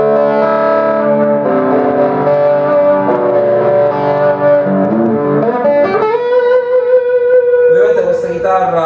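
Electric guitar played through a light SortinoGP distortion pedal: sustained overdriven chords and single notes ring continuously and loudly with no pauses, ending in a bending slide and a few brighter picked notes.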